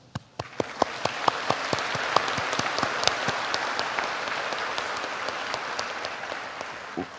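An audience applauds at a community and technical college commencement ceremony: a broad, steady roar of many hands clapping, with a few sharp nearby claps standing out, continuing loud until it fades slightly at the end.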